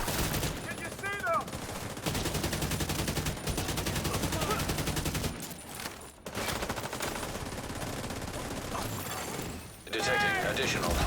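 Rapid gunfire in a video game, bursts of automatic shots and single cracks running almost nonstop with brief pauses, loud and close, with occasional game voice lines mixed in.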